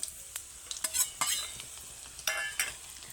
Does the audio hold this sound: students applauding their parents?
no